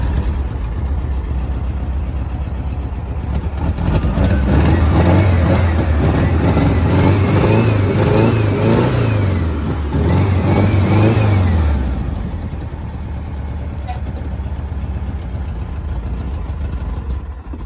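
A Bradley GT 2 kit car engine, running rough and reluctant to stay idling, holds a steady idle and then revs up in two rising and falling sweeps before settling back to idle, loud and close with no talk.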